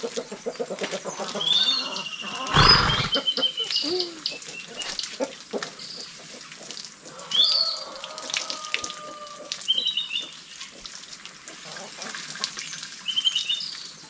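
A young foal being washed during its first bath, with water running and splashing in fits and bursts while birds chirp in the background and a single loud thump sounds early on.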